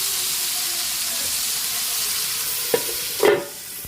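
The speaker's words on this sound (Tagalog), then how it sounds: "Nagisa na po yung ating pork." Pork with celery and fish sauce sizzles and hisses steadily as it sautés in a pot, with a couple of short scraping stirs near the end.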